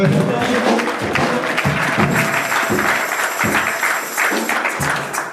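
A church congregation applauds the Lord during a service, with loud, steady clapping from a crowd and voices mixed in throughout.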